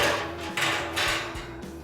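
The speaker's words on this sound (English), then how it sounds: "Go ahead and install my grill grate" Metal grill grate set onto the bottom pegs of a PBX smoker, a few close metallic clunks and scrapes in quick succession with a faint ringing tail.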